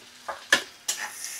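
Prawns and a few raisins being stirred in a pan on low flame give two or three short scraping, rustling strokes over a faint steady sizzle, close and alone.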